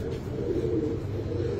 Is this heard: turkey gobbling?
no